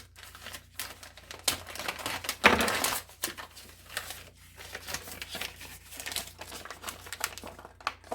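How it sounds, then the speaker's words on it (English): A knife slices open a plastic package of potato gnocchi in a kitchen. Close, light crinkling of plastic comes to one sharp tearing burst partway through, then scattered rustling. "I'm just going to cut it with a knife."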